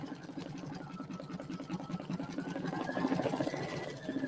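A sewing machine stitches a toadstool-themed rectangular bench buddy in a steady, fast mechanical chatter that holds evenly and swells slightly toward the end, close and alone.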